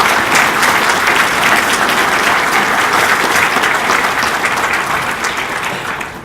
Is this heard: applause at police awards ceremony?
yes